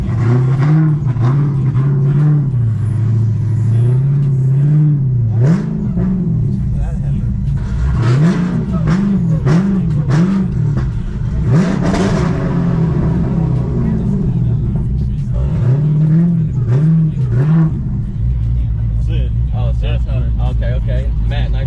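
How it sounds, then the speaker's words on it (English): A car at a burnout competition warms up before a burnout, its engine rising and falling in repeated revs with a steady rumble underneath, loud and close, while people talk over it. "So, warming the car up right now."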